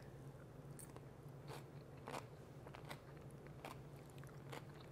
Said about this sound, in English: I don't know if you could hear the shameless crunching going on over here.